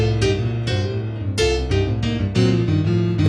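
Piano plays a blues pattern with a swing feel, bass and chords shuffling along in an uneven long-short rhythm, loud and close with no talk.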